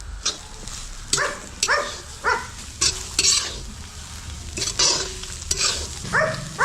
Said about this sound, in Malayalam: ഇനി എല്ലാം കൂടി നന്നായിട്ടൊന്ന് വറുത്തെടുക്കാം.